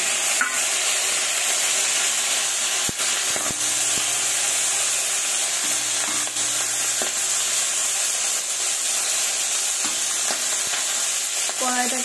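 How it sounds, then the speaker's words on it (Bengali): Singhi and magur fish fry in mustard oil in a hot wok, a loud continuous sizzle with occasional clicks and scrapes of stirring nearby. "এটা মাছটাকে ভেজে নেব"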